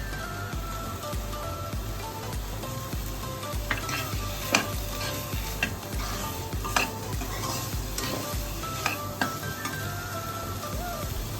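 Soft, steady sizzling of cashew pieces frying in butter in a pan, with occasional scrapes and taps of a spoon stirring.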